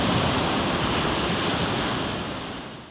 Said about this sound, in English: One last look at the sea and it was time to head off to the bus station.